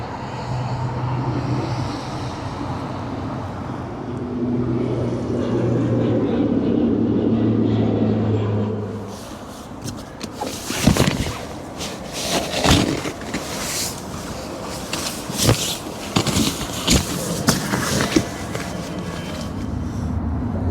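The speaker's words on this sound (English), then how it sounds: "I really need to time my shots between cars coming in and out and the planes going overhead" Cars pass and planes fly overhead beside an abandoned McDonald's at night: a steady low engine drone for the first nine seconds, then a louder, rougher passing rumble with sharp clattering bursts and broadband whooshes continuing to the end.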